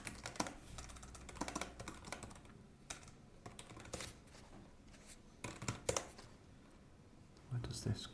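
Light, irregular typing on a computer keyboard in bursts of clicks, fairly quiet and close, with a soft voice and faint rustling in the background.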